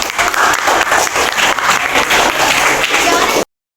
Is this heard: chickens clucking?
no